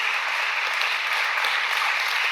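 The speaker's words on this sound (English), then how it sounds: "please applaud" Steady, even applause from a debate audience at an Intelligence Squared event on legalising euthanasia, a dense continuous patter of many hands at moderate distance, with no voices over it.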